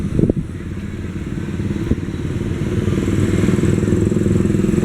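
Yamaha motorcycle ridden on a road on Negros Island in the Philippines, a steady close engine drone with wind rumble that grows slightly louder as the ride continues.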